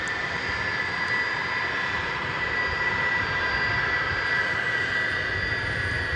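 Aircraft at DFW Airport, a constant loud jet engine roar with a steady high whine, unbroken and without talk.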